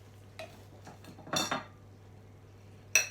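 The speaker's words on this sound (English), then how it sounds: "let's just spoon it out" A spoon scrapes and clinks against a baking dish while serving ratatouille pie with an apple and parsnip topping, a few soft scoops and one louder scrape, ending in a sharp clink.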